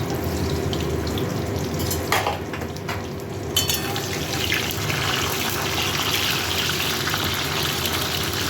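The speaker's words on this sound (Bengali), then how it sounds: "পটলে আমি নুন একটু হলুদ মাখিয়ে পটলটাকে ভেজে নেব" Pieces of pointed gourd (potol) coated in salt and turmeric fry in hot oil, a loud continuous sizzle up close, with a few brief clinks and scraping stirs partway through.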